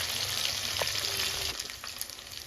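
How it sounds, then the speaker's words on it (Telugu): Dried fish pickle ingredients frying in oil over a medium flame, a steady close sizzle with a few light stirring scrapes, easing slightly toward the end. "జాగ్రత్తగా మీడియం ఫ్లేమ్లో పెట్టుకొని ఫ్రై చేసుకోవాలి"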